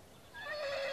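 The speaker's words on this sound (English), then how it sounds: "The horse has got a baby." A single horse whinny rises and quavers for about a second, fairly faint and heard alone.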